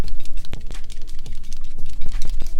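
A Zeyar acrylic paint fineliner marker is shaken hard to mix the paint, giving rapid, loud, close rattling clicks in quick irregular bursts.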